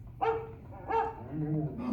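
An animatronic pet dog in Disney's Carousel of Progress stage show gives two short, sharp barks, then a softer, drawn-out whine, all in a quiet room.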